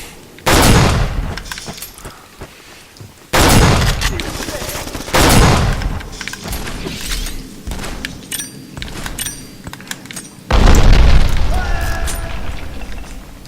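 Grenade explosions in the video game Black: four heavy booms go off one after another, each a loud broadband blast that fades into rumble and debris, with talk in German heard faintly between them.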